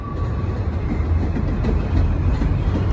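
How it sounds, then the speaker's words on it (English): A New York J subway train rumbles past on an elevated track nearby with a steady low roar and faint rhythmic clatter, continuous and fairly loud throughout. "Got a J train right there."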